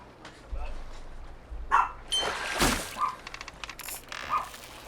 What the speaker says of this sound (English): sorry about my dog barking whenever I set the hook there